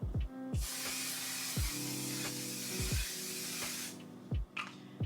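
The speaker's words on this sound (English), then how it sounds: "I'm going to use One Size finishing spray, just a little." A steady hiss of One Size makeup finishing spray lasting several seconds, close and clear, with soft handling bumps before and after.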